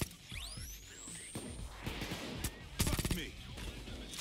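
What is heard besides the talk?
gunfire in a heist video game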